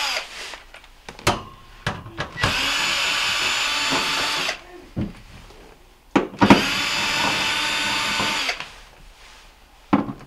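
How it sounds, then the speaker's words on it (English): A power driver backs out 1/4-inch screws from the back panel of a Whirlpool refrigerator, several bursts of whirring of a second or two each, separated by clicks and handling noises, close up with no talk. "there are 9 1/4-inch screws that we're going to take out"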